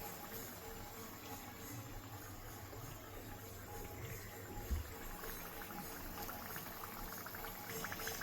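Vegetarian fish-shaped snacks frying in hot oil, a quiet steady bubbling sizzle with no pause, faint and close, without voices.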